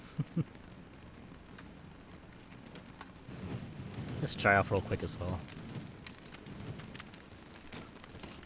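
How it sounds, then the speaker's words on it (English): Steady light rain patters throughout in the game Don't Starve, soft and even, while a person speaks briefly in the middle with a couple of sharp clicks early on. "Now I can listen to the pitter-patter of the rain."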